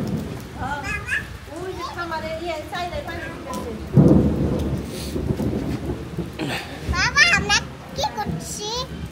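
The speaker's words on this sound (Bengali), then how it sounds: "আমরা বসে বসে বৃষ্টি দেখতেছি।" Rain falls steadily outdoors with a deep thunder rumble at about four seconds, and children's voices and adult talk run over the rain throughout.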